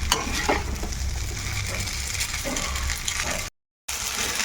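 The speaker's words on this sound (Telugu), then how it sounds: "బాగా ఫ్రై చేసుకోవాలి ఇలాగా ఒక 2-3 నిమిషాల పాటు" Meal maker soy chunks and egg noodles sizzle and fry in a pan while being stirred, with steady scraping and clattering, loud and close, broken by a brief gap of silence near the end.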